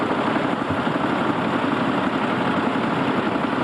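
Vintage Marshall tractor engine running at a steam and vintage rally, a steady low rumbling chug with even pulsing and no breaks in the sound.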